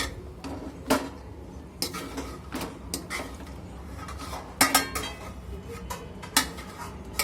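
Basanti pulao rice being stirred in a pot, with irregular close clinks and scrapes of a utensil against the metal and no voices.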